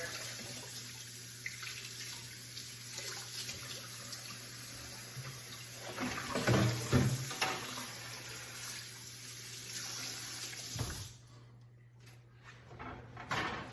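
A beef roast rinsed under a running kitchen tap, with a continuous close splash of water, shifting as the meat is turned, cutting off near the end, followed by a brief handling noise.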